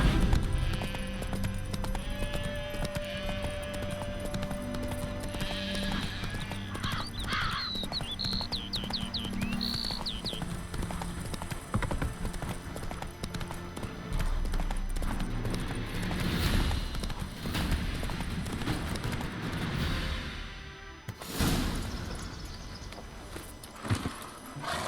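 In The Witcher 3, a horse's hooves clip-clop along at a walk under game music and ambient bird chirps, with a brief neigh and a few louder steps near the end.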